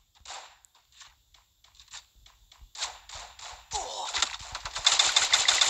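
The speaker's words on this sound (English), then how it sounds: "Okay, someone else shooting at me." Gunfire in the Free Fire mobile battle game: sparse scattered shots and footstep-like taps at first, building after about four seconds into sustained rapid automatic fire, moderately loud and close.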